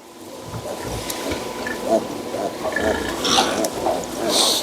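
Piglets and a sow grunt and give short, high squeals close by, several overlapping in a busy pen with rustling and shuffling around them.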